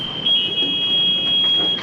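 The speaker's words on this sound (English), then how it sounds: "The bilge alarm." A boat's bilge alarm sounds on a sailboat taking on water after an Atlantic crossing, a loud, steady high-pitched electronic tone droning continuously over background noise.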